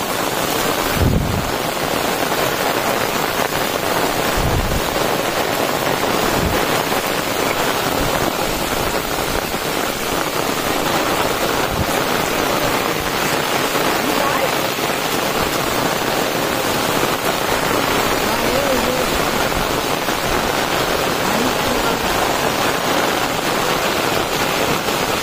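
Heavy monsoon rain pours down on a plateau in rural Konkan, a loud dense steady hiss lasting throughout with occasional gusty thumps of wind against the microphone.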